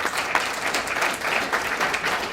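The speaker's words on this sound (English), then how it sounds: "Let's have a little applause for Rick Selcer." An audience applauds for Rick Selcer, a guest speaker at a talk on the Battle of the Pease River, with steady, dense clapping filling the room throughout.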